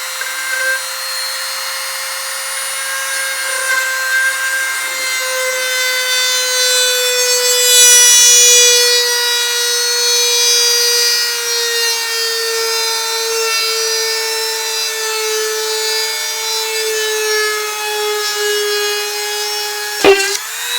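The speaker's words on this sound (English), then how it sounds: "I'm just going to let the weight of the tool come down and drill a hole." A DEKO rotary tool bores a hole in wood, a steady high-pitched whine with a rich buzzing overtone that swells slightly midway, holds for about twenty seconds, and ends with a sharp click.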